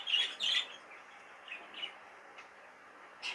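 An opaline cinnamon grey-green pet bird, likely a young budgerigar, gives a few short, sharp chirps close by, separated by quiet gaps, with soft tweets in between.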